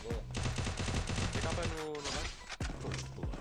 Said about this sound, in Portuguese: Mais um tiro, boa.